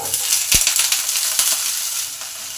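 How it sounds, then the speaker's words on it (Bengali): Washed moringa drumsticks hiss and sizzle in a spoonful of hot oil in a pan, a loud, steady frying crackle with a sharp knock as the pieces land and shift. "তেল গরম হলে সজনে ডাঁটাগুলো ভালো করে পরিষ্কার করে ধোয়া হয়েছে, এই ডাঁটাগুলো এতে দিয়ে দিলাম"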